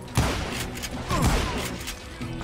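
Rapid bursts of gunfire and thuds from a frantic shootout in the Western video game Call of Juarez: Gunslinger, several close, loud reports overlapping in a dense, chaotic barrage.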